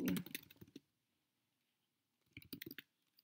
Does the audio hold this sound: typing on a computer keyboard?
yes